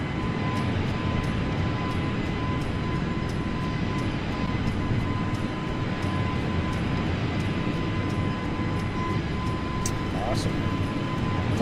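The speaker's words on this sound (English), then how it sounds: "Awesome. Clean takeoff. Very clean takeoff today." Airliner taking off in a flight simulator on a Barcelona departure, a steady broad engine roar with a faint constant tone, interrupted by soft periodic clicks, as a voice talks over it.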